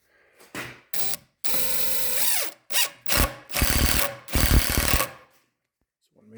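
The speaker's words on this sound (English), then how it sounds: "So I'm going to drill the first one." A drill with a long extension bit bores into a beetle kill wood fireplace mantel in several loud bursts of whirring with pauses between them, the motor pitch rising and falling as it starts and stops.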